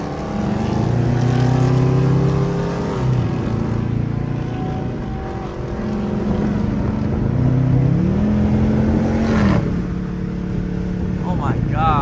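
A hoodless Mopar car cruising on the highway, its engine droning steadily with rising and falling pitch as it shifts, loud and close alongside wind rush.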